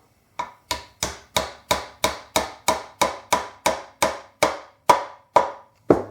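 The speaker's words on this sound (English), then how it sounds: "Soft face hammer" Fourteen sharp soft-face hammer taps land on a wooden bass guitar body on a bench at a steady, even pace, each a crisp knock with a short ring, close by and with no talking.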